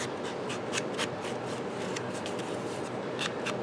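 Ink dauber dabbed repeatedly around the edges of a sheet of paper: soft, quick, irregular dabbing and rubbing taps, close and quiet.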